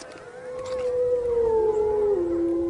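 Wolves howling in winter, where snow has driven elk down to valley wintering grounds: one long, clear howl slides slowly downward in pitch and holds over quiet background noise, with no voices.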